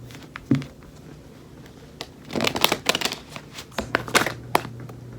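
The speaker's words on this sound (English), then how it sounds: "I don't know why I'm shuffling." Tarot cards shuffled by hand in a quiet room, with soft riffling bursts and sharp card snaps coming in irregular clusters, close and fairly loud, and no talking.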